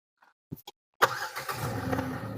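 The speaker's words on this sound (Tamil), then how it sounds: "இப்போ பட்டனை ப்ரெஸ் பண்ணுறேன் இன்ஜின் ஸ்டார்ட் ஆகிடும்" A couple of soft clicks, then a car engine started by push button cranks and catches, settling into a steady idle close by.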